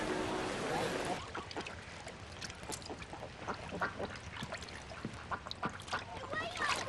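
A duck quacks in a town setting, with several short calls spread through the clip over background noise and people talking nearby.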